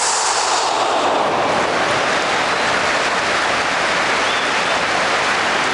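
A 1994-95 Champions League match at Galatasaray's home stadium fills the air with a dense, continuous roar from a huge football crowd, loud and unbroken throughout, with no distinct voices standing out.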